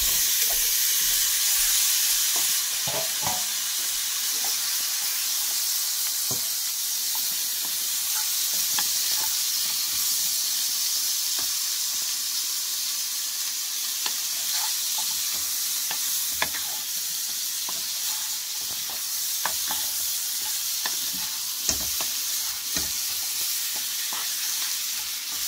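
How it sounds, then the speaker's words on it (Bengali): Ash gourd stir-fried in a pan with cumin powder: a continuous bright sizzle with scattered scrapes and taps of a spatula, close and steady, with no talking. "ভালো করে কষিয়ে নেব জালি কুমড়োটা"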